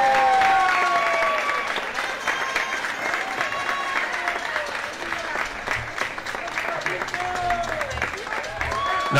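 Audience applause honoring a master artisan for contributions to Puerto Rican folk arts, at a crafts and visual arts fair during the San Sebastián street festival; steady, dense clapping fills the whole stretch with a loud burst at the end.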